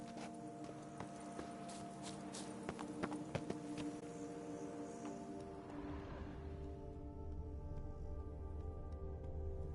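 Hooves of Roach the horse in Witcher 3, a quick run of clip-clop hoofbeats, clearest early on and slowing before fading after about six seconds, set against soft ambient music and background tones.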